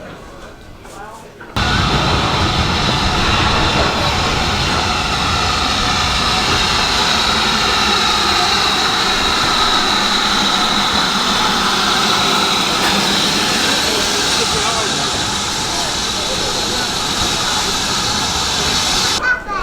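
A steam train on the Bluebell Railway, a loud continuous rumble and hiss of engine and carriages filling the whole stretch after a short quiet start, with voices talking over it.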